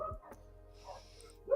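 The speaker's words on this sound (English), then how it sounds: "sorry about my dogs, guys." Dogs bark and whimper indoors at moderate volume, with a few short yips and whines in quick succession, the loudest burst near the end, heard alone without speech.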